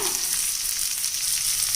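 Steady crackling sizzle of chopped small onions frying with garlic in a hot pan, continuous and close.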